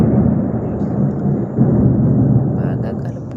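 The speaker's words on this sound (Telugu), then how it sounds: "నేను వాయిస్ ఓవర్ ఇస్తుంటే బాగా ఉరుములు వస్తున్నాయి చూడండి." Low thunder rumbles on and on through a light rainstorm, a deep, loud roll that swells and fades without a break. Faint higher noise comes in near the end.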